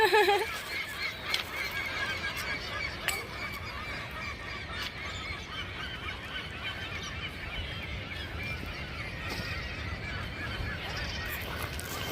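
A large crowd of seagulls on the West Coast Trail by the ocean calls noisily and continuously, overlapping squawks and honking cries over a constant rushing background.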